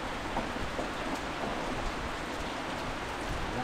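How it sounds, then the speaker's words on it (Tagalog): Steady heavy rain pouring down, a dense continuous patter with no pauses. "Nag-uulan na naman, oh. Bidang ulan na to."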